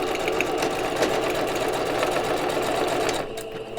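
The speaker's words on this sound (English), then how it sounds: "So now I'm sewing the top and the bottom with the flaps closed." A sewing machine runs steadily, stitching the top and bottom of a fabric piece with its flaps folded closed. The close, even motor whir continues unbroken for most of the stretch and then eases off near the end.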